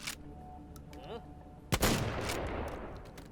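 A shotgun in a video game is racked once with a short mechanical slide, then fires a single loud, sharp blast whose noisy boom rings out and decays across the rest of the moment, with no voices.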